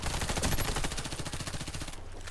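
Rapid automatic gunfire in the shooter Warface, a dense, loud, continuous rattle of shots that cuts off near the end, with no voices over it.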